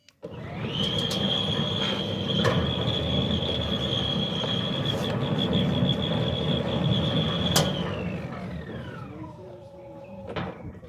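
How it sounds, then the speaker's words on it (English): A Centurion D6 Smart gate motor hums with a steady high whine as a sliding gate rolls uphill, a few clicks and clanks along the way, then winds down to a stop. "I'm going to operate it again so that you can hear the motor."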